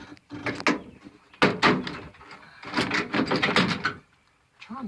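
A brittle, sun-worn door panel on a 1979 Chevrolet C10 truck is pried off in bursts of scraping, creaking plastic and clip clicks, close and uneven, with short pauses between them.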